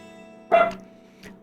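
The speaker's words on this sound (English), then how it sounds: "Dog barky." A dog gives one short sharp bark, moderately near, then a fainter yip a moment later, over a steady electronic hum with no talking.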